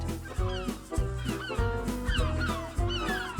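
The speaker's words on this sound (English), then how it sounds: "The young gull makes a noise." A young gull calls over and over in harsh, rapid squawks, loud and close, with barely a pause between cries.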